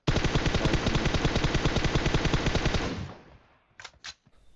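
Sustained automatic M416 rifle fire from the PUBG Mobile video game, a rapid unbroken burst of shots for about three seconds, then a couple of short isolated sounds after it stops.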